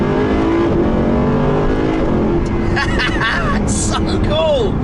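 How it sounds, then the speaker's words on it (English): A Mercedes SLS with a naturally aspirated engine revs and blips loudly through manual downshifts, its engine pitch rising and falling with sharp crackles near the end. A voice speaks over it. "If I pop it back into manual just now, drop some gears, it's the noise that it makes."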